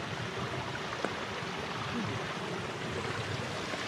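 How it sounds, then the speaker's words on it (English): A small creek tumbles down by a little bridge on a trail along the Middle Fork Snoqualmie River, a constant soft rushing wash with no breaks, heard at moderate distance. "You can hear the water coming down."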